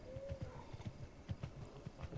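Hooves of a skeleton horse in the Zelda: Breath of the Wild video game make a soft, irregular clip-clop of quick paired thuds, faint and low under a steady ambient hiss.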